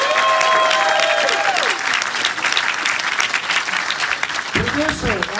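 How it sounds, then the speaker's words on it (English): A crowd at a film premiere in Astoria claps loudly and continuously, cheers and whistles mixing in, with a voice calling out near the end. "Get one last round of applause, and then we're going to start the film."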